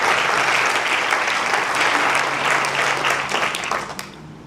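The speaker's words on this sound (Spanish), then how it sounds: "denle ese aplauso fuerte al Señor" Congregation at a church class breaking into loud, sustained applause, a dense wash of many hands clapping together that holds steady and then tapers off at the end.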